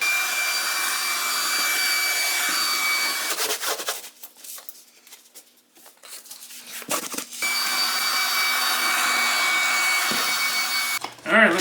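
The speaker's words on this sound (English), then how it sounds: "I'll get a vacuum" A vacuum cleaner runs loud and steady while cleaning up a spill left after removing an old heater, cutting out briefly in the middle, then whining back up to full power.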